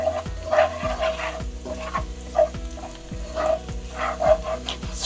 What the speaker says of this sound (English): we're going to fry them until they're gone brown